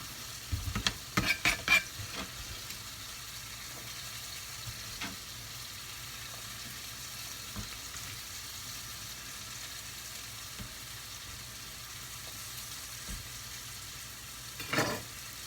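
Mango pieces and frozen bread being stirred in a pan, a few scraping clatters of the utensil at the start and near the end over a quiet, steady sizzle.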